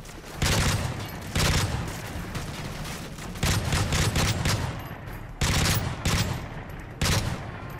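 Loud bursts of automatic gunfire in the Call of Duty: Modern Warfare 3 video game, several rapid volleys separated by brief pauses, close and alone with no talking.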